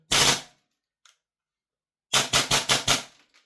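A Double Eagle Daniel Defense MK18 gas blowback airsoft rifle fires a single sharp crack, then after a pause a quick string of four loud snapping shots, close and alone.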